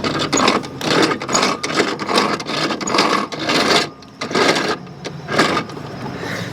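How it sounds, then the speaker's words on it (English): A Toro Timemaster self-propelled mower with a worn middle bearing gives off a rough, rasping mechanical grind in uneven bursts and pulses, close and fairly loud. "I think this bearing is no good. Right here in the middle. This middle bearing. That's what's making this noise."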